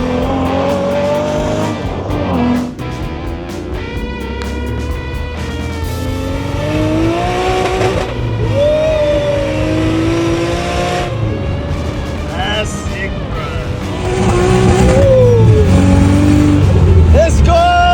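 An RB25-swapped Nissan Cefiro revving hard while its rear tires spin and smoke, a loud rising and falling engine roar with squealing rubber, close by and continuous, with people shouting and cheering over it.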